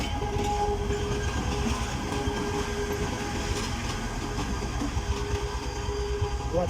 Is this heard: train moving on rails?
yes